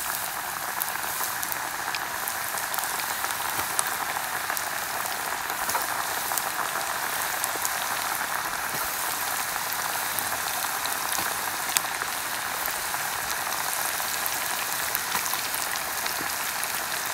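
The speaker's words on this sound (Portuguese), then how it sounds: "Vou fritar um peixinho agora pra gente poder almoçar, né?" Fish frying in a pan for lunch at a fishing outing, a steady dense crackling sizzle that holds at an even level throughout with no pauses.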